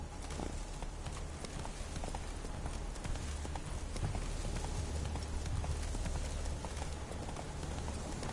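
Roach, the horse in The Witcher 3, gallops in a steady, fast rhythm of hoofbeats over a dense, constant bed of game ambience, loud and close throughout.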